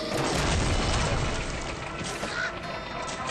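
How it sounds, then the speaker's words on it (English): A spaceship blows up in the Rayman Raving Rabbids 2 video game with a booming, crashing explosion. Broadband rumble and debris-like noise swell early and then sustain at a slightly lower level. "I like shooting spaceships because they blow up."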